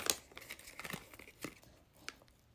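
Precut plastic blind bag packaging holding figural bag clips crinkles and tears in a few short, quiet bursts with small pauses, handled close to the microphone.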